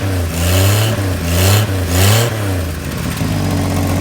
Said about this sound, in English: Pretty loud up here too, exhaust leak